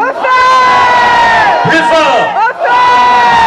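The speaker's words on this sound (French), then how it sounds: "je vous demande tous de crier au feu" A large outdoor crowd at a pedal car race loudly shouts "au feu" in unison, sustained yells with a brief dip, while a voice on a loudspeaker urges them to shout louder.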